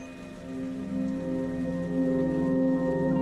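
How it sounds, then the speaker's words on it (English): Gentle drizzling rain woven into a video game soundtrack for the OFF remaster, a soft steady patter under sustained tonal music notes that slowly swell louder. "There's like rain drizzling sounds."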